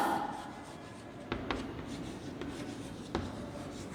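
A pen scratches out an answer on paper for a Class IV maths worksheet on multiples, a faint, steady writing rustle with a few light taps of the pen, close and quiet.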